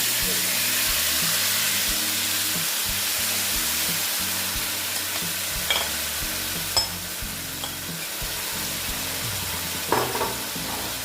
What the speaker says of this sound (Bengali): এটা আমি এখন মাছগুলো আবার একটু এই মশলার সঙ্গে কষে নেবো